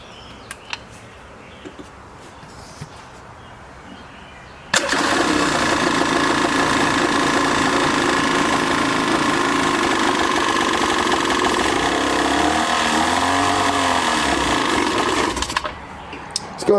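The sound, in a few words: old 1995 Yamaha WaveRunner jet ski engine running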